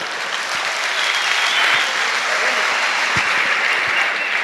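Steady, dense applause from a crowd at a comedy show, even and continuous throughout with a few low thumps mixed in.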